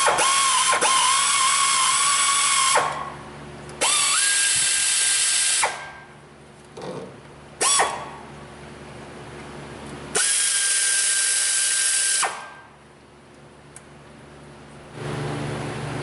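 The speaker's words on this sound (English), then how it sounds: "let's loosen the clamp on our bypass hose, our heater hose, and our lower radiator hose." A power tool with a whining motor loosens hose clamps on a Chevy 5.7 350 engine in a Tahoe or Silverado. Several loud, sustained bursts of spinning come close by, separated by short pauses and brief clicks.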